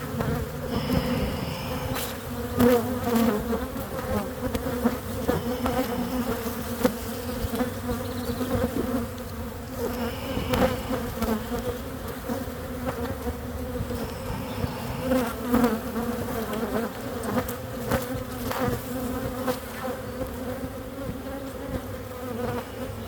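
Honey bees hum in a steady, dense drone during a beehive inspection, many insects buzzing close around with occasional clicks and knocks of handling.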